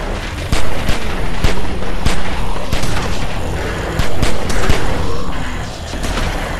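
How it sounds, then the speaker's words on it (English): Dense, continuous gunfire from several weapons aimed at zombies in The Walking Dead video game, with sharp shots and booming impacts layered over constant loud chaotic noise. "Keep shooting!"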